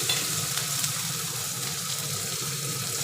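Onions frying and being stirred in a pan for a small-fish curry, with a loud, continuous sizzle and scraping stir sounds close up and no talking.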